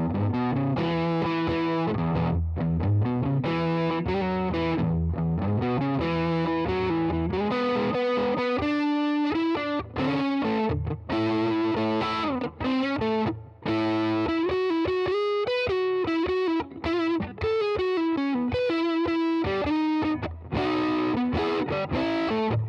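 Distorted lead lines on a Tokai LoveRock electric guitar through the neck pickup, a warm, singing tone with fast runs, bends and held notes, loud and continuous with no talking.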